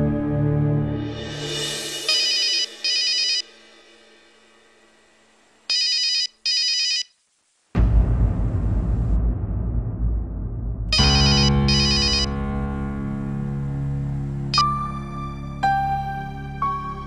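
A phone ringing out during a call in a Hindi TV drama, with short bursts of electronic ringtone separated by gaps, followed by a low rumbling musical background and a brief melodic chime near the end.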